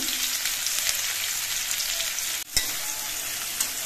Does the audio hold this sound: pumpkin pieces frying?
yes